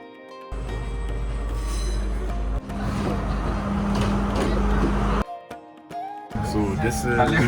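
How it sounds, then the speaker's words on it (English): A passenger train in Sri Lanka rumbles along with a loud, steady low roar and rattling carriages, broken by brief cuts, while people talk over the noise. "Last day in Sri Lanka, and let's see what this train ride is all about"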